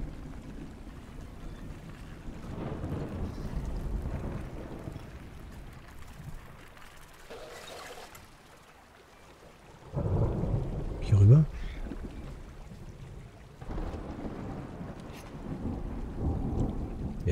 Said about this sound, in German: Ein Sturm zieht auf.